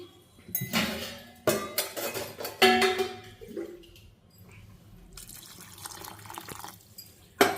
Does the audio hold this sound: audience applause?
no